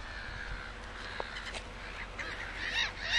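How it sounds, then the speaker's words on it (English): Birds in Iceland call out in a few scattered honking, goose-like cries, mostly faint at first and then louder and closer near the end, over a soft outdoor background. "Even the birds are mocking us."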